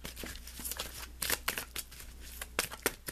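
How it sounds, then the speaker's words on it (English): Tarot cards riffle and slap in quick bursts while being shuffled, with a few sharp card flicks as a guidance card is pulled; close, crisp and fairly quiet, with no talking. "Let's pull you an additional guidance card"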